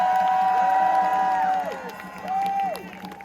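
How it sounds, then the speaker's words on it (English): A street protest crowd outside a McDonald's on St. Mary Street in Cardiff cheers and whoops, with sustained high shouts swelling and fading over scattered clapping, close and fairly loud. "a big round of applause for the UK police that are taking action against genocide"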